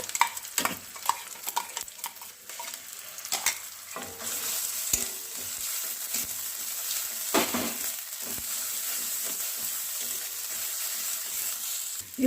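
Bottle gourd leaf paste sizzles and fries in a pan while being stirred, with scraping spoon strokes and soft crackling building into a steady close sizzle.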